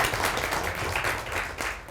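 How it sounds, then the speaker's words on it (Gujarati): Applause from the audience at a gala stage show rises as a dense, steady patter of many hands clapping at moderate loudness. "વાવ, જોરદાર તાળી"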